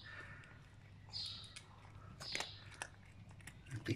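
A cat crunching dry kibble indoors, a quiet series of small irregular crunches and bites up close, with low background hum.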